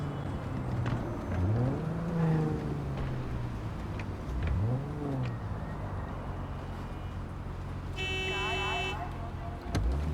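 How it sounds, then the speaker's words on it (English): Cars in Cyberpunk 2077 race and swerve erratically, their engines rising and falling in sweeping revs as they pass close by. A short electronic chirp cuts in near the end. "Why is everyone going crazy with their cars?"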